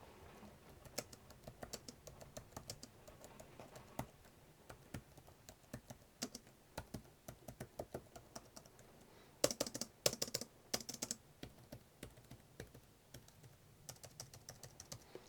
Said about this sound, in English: the keyboard has got very, very nice keys on it, really nice actuation to them, nice spring back